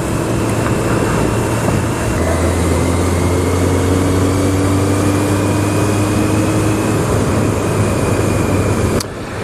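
A motorcycle with a sticky throttle runs loud and close on its first ride of the season, its engine droning steadily with a rising and falling pitch that fits revving and riding, then dropping off at the end.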